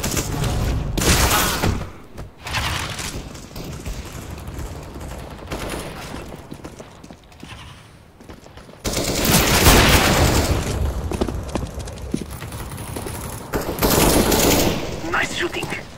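Gunfire in the video game CS:GO (Counter-Strike: Global Offensive): loud, rapid bursts of automatic shots and booming reports repeat throughout, with brief gaps between volleys.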